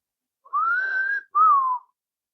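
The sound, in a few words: person whistling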